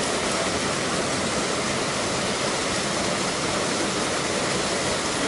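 Waterfall at Gürleyik in Kastamonu, right beside a campsite. A dense, constant roar of falling water, loud and unbroken with no voices.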